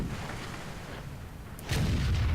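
A tank cannon fires in a video game, a single deep boom arriving late over a low rumbling background, with no speech.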